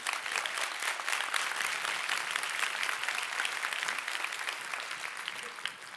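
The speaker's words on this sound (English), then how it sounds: "I needed that clap" An audience at a family-focused conference keynote claps steadily throughout, a dense, moderately distant applause that tapers slightly toward the end.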